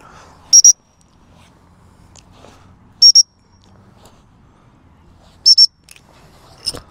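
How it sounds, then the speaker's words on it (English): Three sharp, high double-pip recall whistle blasts to a dog sound a couple of seconds apart, loud and close, over a quiet background with faint rustling. "I'm going to give him a whistle recall as well"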